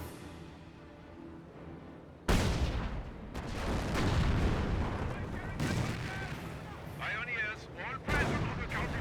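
Artillery barrage in the Company of Heroes game: a sudden loud blast followed by rolling booms and crackling impacts, continuous heavy rumble with further bursts, under faint background battle noise.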